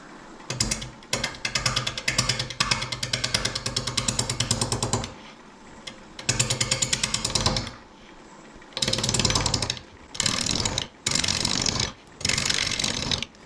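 A wood lathe spins a Pacific yew hardwood blank at about 570 RPM while a gouge cuts it, producing loud rattling, chattering bursts separated by short pauses as the tool meets and leaves the wood.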